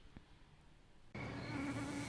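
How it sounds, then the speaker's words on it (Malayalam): Mosquitoes buzz in a loud, close, steady whining drone that starts abruptly after a second of quiet and continues without a break. "ഈ രാക്ഷസ കൊതുകുകൾ ഇത് എപ്പോൾ എത്ര വരുമെന്ന് ആർക്കറിയാം"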